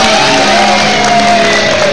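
Studio audience on an Indonesian TV variety show cheering and whooping loudly throughout, a dense steady crowd roar with shouts and applause.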